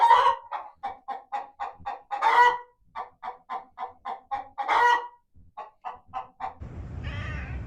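A large hen clucking close by in a steady rhythmic series of short clucks, broken by a few louder drawn-out squawks, ending in a burst of rough rustling noise.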